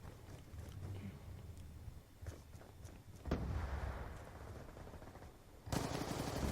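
Submachine gun fire in Black Ops 2 multiplayer, short bursts of rapid shots over game ambience and footsteps, growing louder with a heavy burst near the end.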